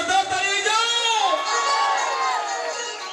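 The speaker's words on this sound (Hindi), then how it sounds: "गोटे जोरदार ताली हो जाओ" Audience at a live Odia melody stage show cheering and shouting loudly, a dense burst of crowd whoops and voices that swells and holds for a few seconds.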